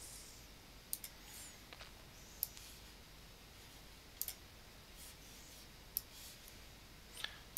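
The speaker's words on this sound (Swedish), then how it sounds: "Jag tar helt enkelt och klickar och drar och släpper." A computer mouse clicks softly while video clips are dragged around in the YouTube video editor, with sparse single clicks spread out over a quiet room hiss.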